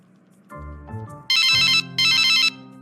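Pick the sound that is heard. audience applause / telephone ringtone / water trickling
telephone ringtone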